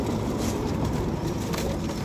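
Pigeons coo in soft, low, throaty bursts close by on a rooftop loft, the sound layered over a dense background of other birds.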